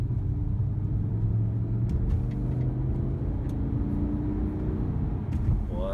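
BMW E60 M5 with SMG transmission lurching through a slow, sloppy gear change in traffic, its steady low engine rumble holding and dipping slightly in pitch, heard close from inside the car with no talking.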